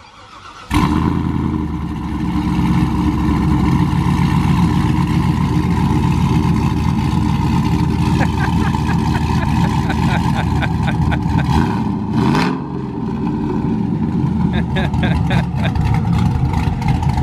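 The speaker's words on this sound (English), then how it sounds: "It honestly just makes me laugh at how fucking obnoxiously loud this truck is." A loud lifted truck on 26x16 wheels idles and revs near the exhaust, a deep rumbling drone that runs steadily throughout with brief surges and a momentary break.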